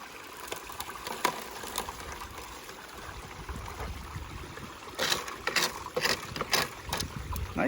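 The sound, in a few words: Keene Mini Max high banker with pump recirculating water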